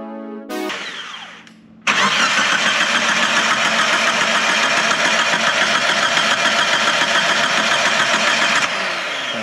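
A Geo Tracker that sat for 12 years after a wreck cranks over, with a brief clunk and some starter whirring followed by a loud, steady, rapid churning that continues for several seconds before cutting off.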